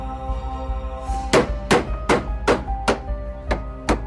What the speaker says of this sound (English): He managed to make it through the hammering okay